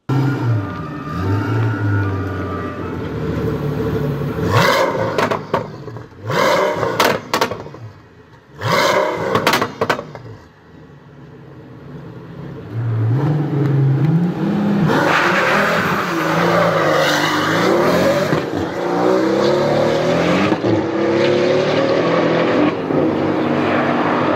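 A forced-induction V12 engine revs hard and accelerates with a refined, sinister growl, loud and close, with sharp throttle blips early on before a sustained, rising pull; no talk.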